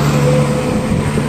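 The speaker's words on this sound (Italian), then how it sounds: "Ecco un altro pullman." A coach bus rolls past on a road, its engine a steady, loud mid-range rumble with a droning hum throughout the short stretch, no voices over it.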